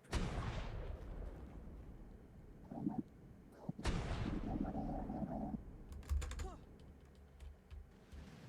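Two heavy cannon blasts boom out in the video game Ark, several seconds apart, each followed by rumbling decay, with faint clicks and a voice in the background.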